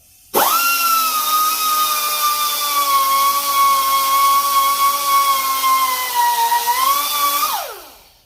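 Handheld high-speed power tool polishing the top of an engine piston crown, a loud steady whine that spins up sharply, holds for about seven seconds and winds down at the end.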